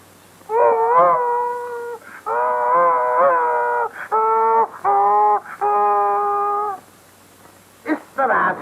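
A voice imitates a human baby crying in a series of long, wavering, wailing cries with brief gaps between them, loud and close, and no other talk.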